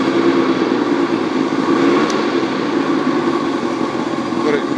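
A 1991 Lund Angler 1600 SC boat's outboard motor runs close by with a loud, steady, even drone throughout, with no clear swell in pitch.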